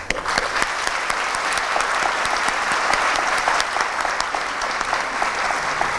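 A graduation ceremony audience at a university claps in a sustained, dense wave of applause for six seconds, loud and even from start to finish.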